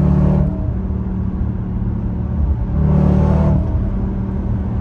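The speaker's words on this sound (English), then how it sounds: "But I can hear that excellent exhaust system" A loud SUV exhaust booms with a steady, deep rumble that swells as the engine revs, with no supercharger whine, heard from inside the vehicle.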